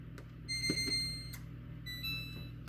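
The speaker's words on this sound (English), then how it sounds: "Okay, timer's gone off." A kitchen timer going off while a smothered Salisbury steak pot pie bakes, giving high electronic beeping tones in two bursts, with clicks between them, against a quiet kitchen.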